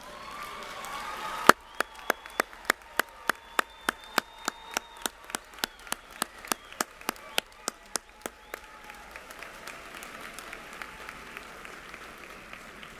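A graduation ceremony audience stands and applauds the graduates, giving loud, close, rhythmic claps that ring out over a broad crowd hubbub before easing into a softer murmur.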